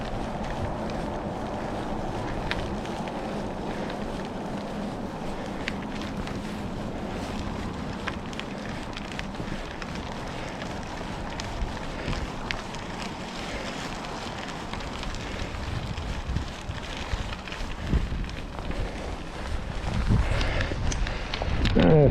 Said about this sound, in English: may hear a little bit of wind today